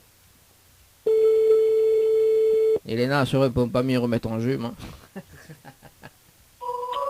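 A telephone ringing tone on a call placed live during a radio show on KAYANM FM sounds as a steady, sustained electronic tone for almost two seconds, then gives way to talk, with a shorter tone returning at the end.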